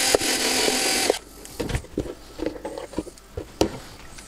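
A power drill whirs loudly for about a second, then stops, followed by scattered clicks, taps and small handling noises, while building a 3D printer filament box.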